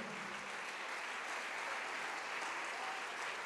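A church congregation applauds in a dense, even wash of clapping that stays steady and fairly soft for the whole stretch, with no voices rising above it.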